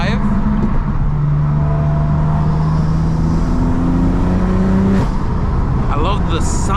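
A manual BMW M3 engine drones steadily while driving, its tone rising gradually through a gear before a shift around the five-second mark, with road rumble underneath throughout.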